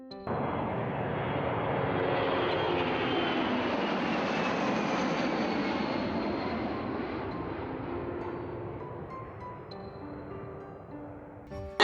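A C-17 Globemaster military aircraft at an air base, engines roaring as a broad rumble that swells, holds loud for several seconds, then slowly fades as it passes.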